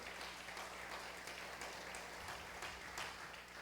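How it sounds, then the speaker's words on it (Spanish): A church congregation at a Spanish-language service applauds, a quiet, distant patter of many hands that holds steady for a few seconds without talk. "dele un aplauso al Señor"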